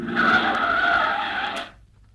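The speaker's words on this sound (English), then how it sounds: "Here comes a car." A car sweeps in and skids to a halt, a loud tire screech holding for over a second before cutting off sharply into near silence.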